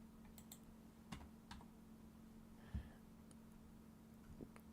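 Quiet keystrokes on a computer keyboard, a few scattered taps and clicks with pauses between them over a low steady hum.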